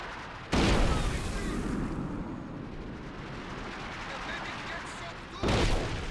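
Artillery shells from an OKW/Ostheer commander ability fire and burst in a strategy video game. Two loud, sharp blasts land several seconds apart over a steady rumbling battlefield bed.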